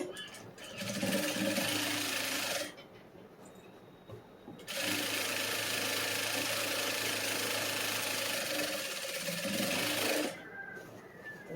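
A sewing machine stitches a lined blouse in two long, steady mechanical runs, loud and close, split by a short pause and easing off briefly near the end.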